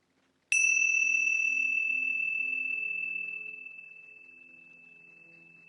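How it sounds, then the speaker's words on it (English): A single meditation bell struck once in a quiet room, a clear bright ring that sustains and slowly decays over several seconds with a soft lower hum beneath. "So here it is, bell."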